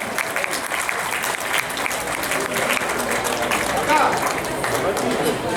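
An audience at an Independence Day mushaira poetry gathering claps loudly and continuously, a dense crowd applause that holds steady throughout.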